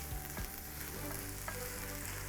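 Zucchini sweats in a frying pan for a zucchini lasagna, a soft, low sizzle with a couple of quiet scrapes and knocks as it is stirred. The sound is faint and close, and nobody speaks.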